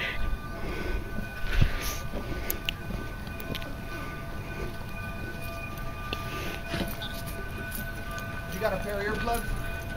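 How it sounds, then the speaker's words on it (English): A train approaches on the tracks as a sustained rumble with scattered clanks and a rising whine near the end, while people talk nearby. "We got lucky. The train's right here."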